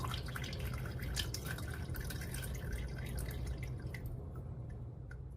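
Water draining out of a tank through a swirling outlet vortex, a steady close gurgling and trickling with irregular drips and splashes that grows thinner and sparser toward the end; no one speaks.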